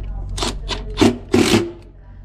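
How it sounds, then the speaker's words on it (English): Cordless drill driving flat screws into a board during a commercial refrigeration bar cooler upgrade, giving four short whirring bursts close by, the last two longer and louder, with no talking. "Let's put a few screws in here. These are nice and flat."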